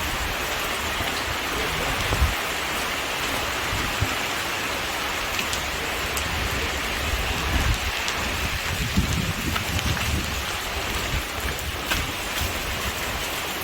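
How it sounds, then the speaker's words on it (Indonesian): Steady rain falls outside a shrine, a dense even hiss of drops on surfaces lasting throughout, fairly close, with a few louder spatters and no talking. "Ini hujan ya. Hati-hati, kena air basah."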